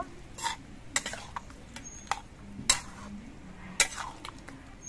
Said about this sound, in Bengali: ঘি দিয়ে নেড়ে চেড়ে মিশিয়ে এনে নেব।